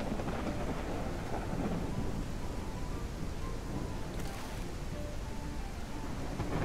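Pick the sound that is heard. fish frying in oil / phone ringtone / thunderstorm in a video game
thunderstorm in a video game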